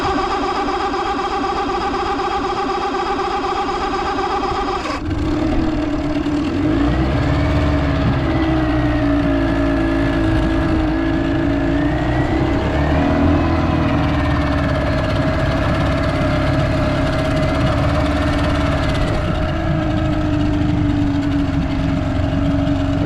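An outboard motor, just fitted with a new water pump, cranks and catches about five seconds in, then settles into a loud, steady idle close by for the rest of the clip.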